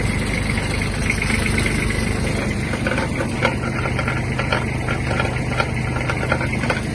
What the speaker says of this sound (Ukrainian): відпускаємо і включаємо вал відбору потужності